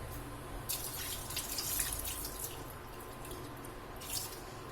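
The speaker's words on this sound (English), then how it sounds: "So this is the reason why we wash grains" Dal grains are washed under running water, with tap flow, splashing and drips in a sink. The sound is steady and close, and the splashes are louder at a few moments, with no speech.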